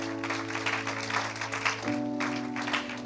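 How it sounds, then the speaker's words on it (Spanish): Congregation clapping at a Spanish-language church service, a short burst of applause over a sustained organ or keyboard chord that shifts pitch midway. "Dale un aplauso al Señor"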